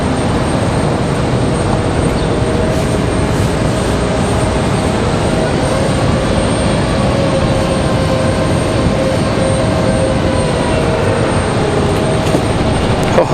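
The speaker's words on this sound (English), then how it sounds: "here comes our Republic Airways" A Republic Airways jet airliner approaches at Raleigh-Durham International Airport, giving a steady, moderately loud engine rumble with a faint whine that carries evenly throughout without any break.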